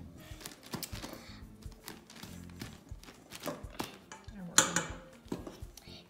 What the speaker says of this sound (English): I'm just stirring it around